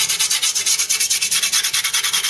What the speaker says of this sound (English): grab your screwdriver and you want to start sanding around the edge of the scooter,